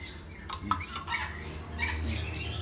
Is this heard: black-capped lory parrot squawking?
yes